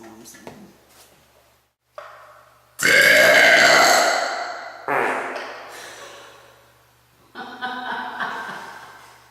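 A person lets out several loud, drawn-out burps after eating French onion soup, with short pauses between the belches and some quieter sounds around them.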